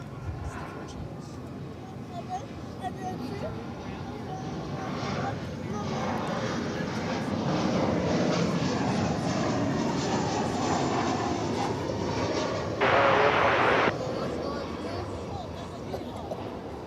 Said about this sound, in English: the last time we see this beautiful aircraft